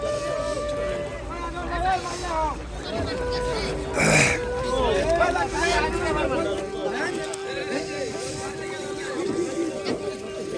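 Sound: boat arriving at the river ghat

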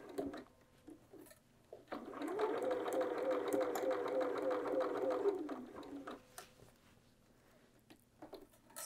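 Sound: sewing machine stitching bias binding around bag handle

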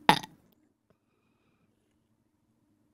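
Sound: burp

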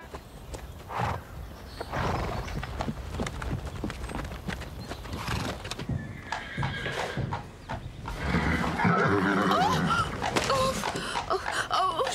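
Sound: horse hooves clip-clopping and whinnying

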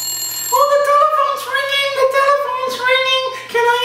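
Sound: telephone ringing

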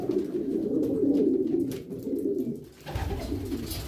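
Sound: male homing pigeon cooing while courting a female

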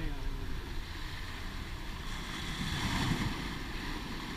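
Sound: dangerous ocean waves along a rocky path

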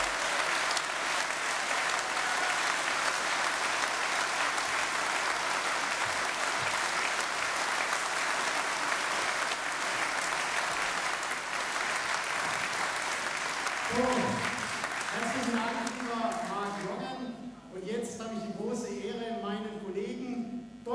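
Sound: audience applause

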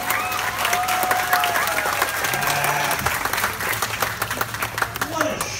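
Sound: crowd applause at bear show

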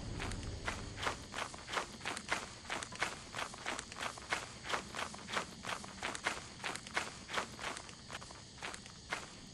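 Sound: footsteps crunching in Lethal Company video game

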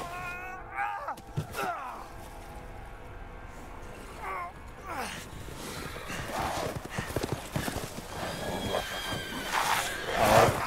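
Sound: horses galloping in the video game Resident Evil Village

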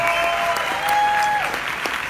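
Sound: audience applause

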